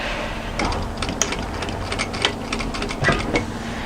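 A sewing machine stitches a short run of back tack stitches on a sweatshirt seam beside overlocking, a quick series of close mechanical needle clicks and taps with brief pauses, no voices.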